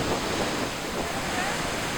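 Rushing river water below Nevada Falls in Yosemite pours past a bridge in a steady, loud, broadband roar that holds unbroken throughout, like close whitewater.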